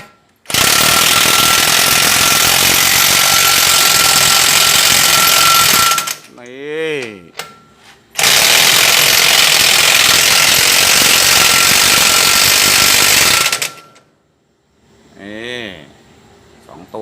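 A power tool spins wheel nuts tight on a black Isuzu pickup converted into a six-wheel dump truck, with two long, loud, continuous rattling bursts, each followed by someone speaking nearby.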